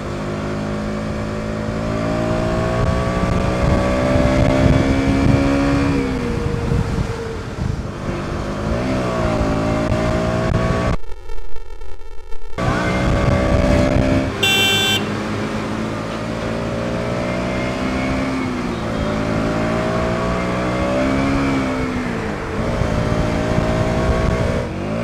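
A 2023 KTM Duke 200 motorcycle engine pulls hard while being ridden, its loud close note rising and falling through repeated revs and gear changes, with one short dropout midway and no talking.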